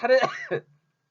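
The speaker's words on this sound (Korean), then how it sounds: "아유 자꾸 왜 이렇게 기침이 나오니까" A single short cough, close and fairly loud, followed by a brief quieter throaty sound and then silence.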